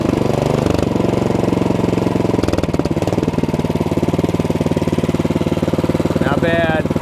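Cub Cadet 3X snowblower engine throttled down to a steady idle, running loud and close with an even rumble that holds through the whole stretch, with a brief higher whine near the end.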